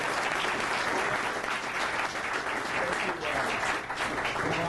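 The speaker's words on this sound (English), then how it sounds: "First, a big round of applause." Audience at a lecture on ending the Fed gives a sustained round of applause, a steady, even roar of clapping from a full room with no pauses.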